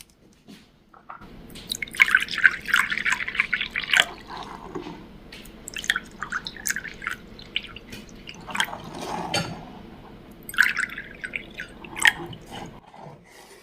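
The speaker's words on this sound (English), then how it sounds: "So we'll get some water inside of the jars here." Water is poured from a container into several glass jars in turn, a run of splashing, dripping fills across the stretch with short pauses between jars, close and fairly clear with no talk.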